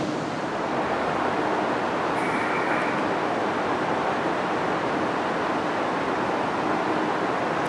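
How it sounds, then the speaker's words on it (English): Rushing water in a gorge below a barrage on the Lot river, heard as a steady, dense roar that fills the whole clip with no breaks and no voices. "You can hear the rushing water down below in the gorge."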